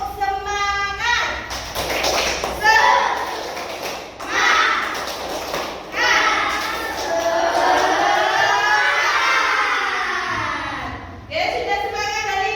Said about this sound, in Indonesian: coba anak-anak sekarang kita mulai tepuk semangat